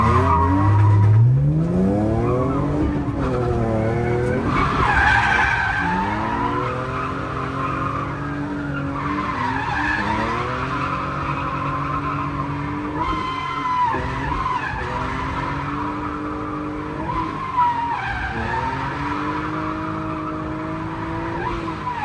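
A drift car skids through sustained tire squeal at a drift final practice day in Klaipėda, with rising and falling engine revs and long screeching slides that carry loud and continuous throughout, no talk.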